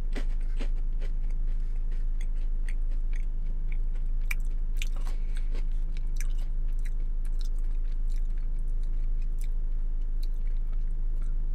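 Close, quiet chewing of a dry, crunchy Dunkaroos cookie, with irregular small crunches and squishy bites over a steady low hum, no talking.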